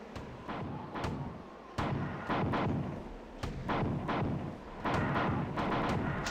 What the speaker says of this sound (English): Now let's switch back to the grenade launcher.